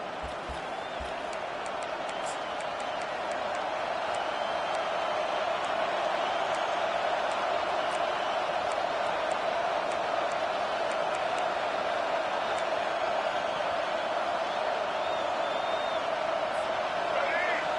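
A large football stadium crowd roars in a steady, sustained wall of noise during a college championship game, rallying behind the defense on a big third down, with faint whistles and scattered shouts over the continuous din.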